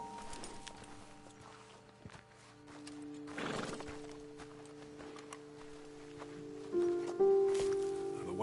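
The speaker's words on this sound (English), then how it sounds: "Okay, let's dismount here. Best leave the horses back a bit." Horses in the Red Dead Redemption 2 video game, with a few faint hoof clops and soft shuffling over a quiet outdoor ambience, then a louder whinny-like tonal cry near the end.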